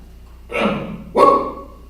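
Dog giving two sharp, close barks about half a second apart, each trailing off briefly, over quiet background.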